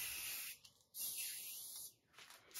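Aerosol spray hissing onto a recycled basket being made into a plant stand, in two close, steady bursts with a short pause between them.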